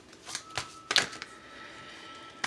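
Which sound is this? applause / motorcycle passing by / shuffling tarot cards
shuffling tarot cards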